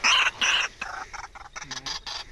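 A wild fowl caught in a trap gives a burst of loud, harsh squawks up close, followed by a rapid series of shorter clucking calls.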